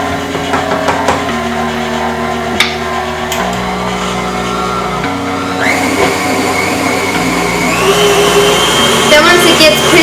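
An electric mixer beating heavy whipping cream and cocoa on low for a chocolate cake, a steady loud whirring motor hum that shifts pitch slightly as it runs, close and continuous.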